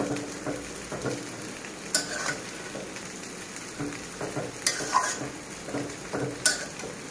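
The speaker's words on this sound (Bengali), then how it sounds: "শাকগুলো একটু দেখেন নাড়াচাড়া করে দেবো" Wilted red amaranth greens are turned in a pan, with irregular metal spatula clinks and scrapes over a quiet, steady sizzle, close by and with no voices.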